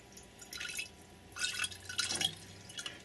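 Liquid is poured out in faint, intermittent bursts of trickling and dripping, splashing softly into a container with short pauses in between.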